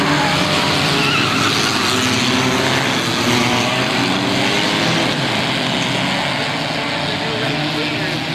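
A pack of race cars accelerating away at the green flag in a 1998 race, with loud, continuous roaring engines and tire noise from trackside, while an announcer commentates over the top.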